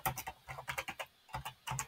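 Fast keystrokes on a computer keyboard while text is typed into a Microsoft Word document, a close run of crisp clicks in short bursts with a brief pause partway through.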